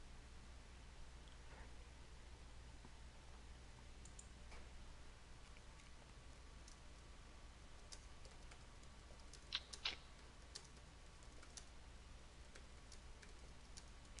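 Quiet, scattered keystrokes on a computer keyboard, a few faint taps with a brief cluster of sharper clicks midway, over a low steady room hum.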